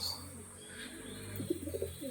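Beldanga racing pigeons cooing nearby, a few soft rolling coos in the second half over a low steady background hum.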